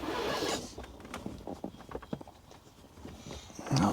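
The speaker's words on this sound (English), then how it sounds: "Put the zipper together." A zipper is pulled closed on a Ford Bronco interior kit: a series of short, close rasping zips with brief pauses, louder at the start and end.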